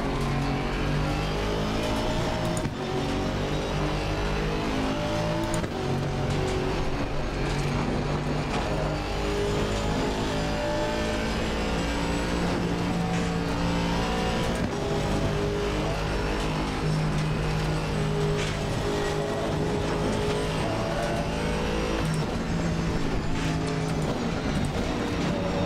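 Race car engines roar in the sim racing game Assetto Corsa Competizione during an online race. Several engines drone and rev continuously, with shifting harmonic whines as cars accelerate and pass close by, and no one speaks.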